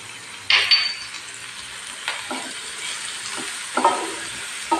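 Onions and mint sauté in a pan for cauliflower paya, a soft, low sizzle broken by a few brief stirring scrapes and light clinks of a utensil against the pan.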